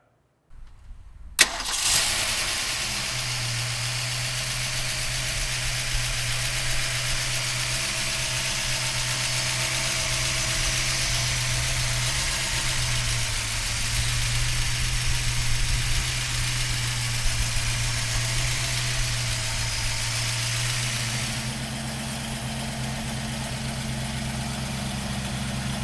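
A 1970 Ford Boss 302 Mustang V8 fires up with a sharp crank and catch, then settles into a steady, loud, throaty idle that runs on evenly, its pitch stepping up slightly near the end, with no talking.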